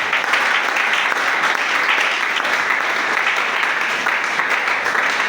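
A church congregation breaks into sustained, dense applause, many hands clapping evenly and loudly together without a pause.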